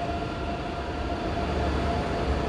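A train pulls away from a platform at Würzburg main station, a steady broad rumble holding at even loudness throughout, with no talk.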